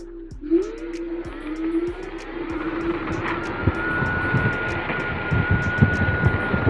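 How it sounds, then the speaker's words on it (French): A Bluetran Lightning electric scooter built by Minimotors (Dualtron) accelerates along a straight, its square-wave motor whine rising in pitch under gusting wind noise and road rumble. "On reconnaît bien le bruit square des Dualtron"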